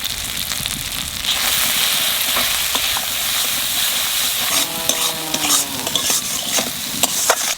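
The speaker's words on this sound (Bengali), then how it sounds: "মশলা কষানো হয়ে গেছে" Ground cumin, coriander and chili spice paste frying and being stirred in a pan for chicken curry, a loud, close sizzle with scraping and clinks of the spoon against the metal throughout.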